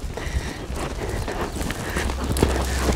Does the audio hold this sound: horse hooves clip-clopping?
yes